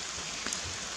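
Steady rain falls in Hocking Hills State Park on a June day, a dense, even hiss of drops hitting surfaces with one slightly louder drop partway through.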